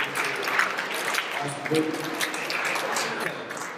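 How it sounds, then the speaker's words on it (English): Attendees at a passport event give themselves a round of applause, scattered clapping mixed with voices from the room. "give yourselves a round of applause for your attention"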